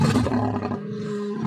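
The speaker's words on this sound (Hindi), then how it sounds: "ये तो शेर के दहाड़ने की आवाज है।" A lion roars up close, loud and deep, in one sustained call that fades slightly toward the end, with no talk over it.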